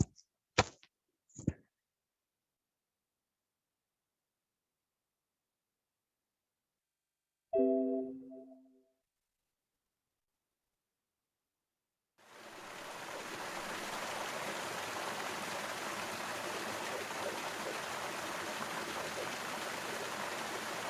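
Steady broadband rush of flowing water in a simple-machine water-transfer model, starting abruptly after a few faint knocks and clatter, then continuing evenly and fairly close with no talking.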